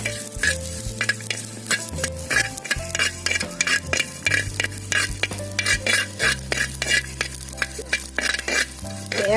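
Garlic and ginger stir-fried in a pan with steady sizzling, over a repeating scrape-and-clink rhythm of a utensil against the pan. Nobody talks.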